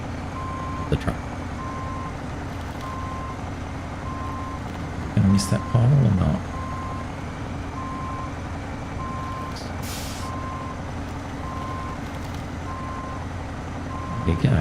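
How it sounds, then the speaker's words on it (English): Truck with trailer reversing in SnowRunner, a steady series of evenly spaced reversing beeps over a low engine drone, with a brief air-brake hiss and a person talking over it. "Who says you can't reverse a trailer?"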